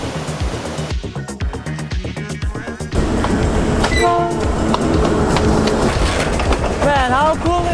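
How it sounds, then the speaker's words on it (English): A train passes close by on a hiking route near Machu Picchu, Peru, rhythmic clickety-clack of wheels swelling into a loud rumble, with horn blasts sounding over it. "Hiking and there's train passing right through you."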